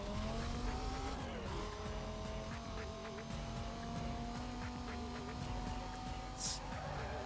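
Car in Need For Speed Most Wanted driving at speed, a steady engine drone shifting pitch through gear changes with a brief squeal of tires near the end, continuous and fairly close.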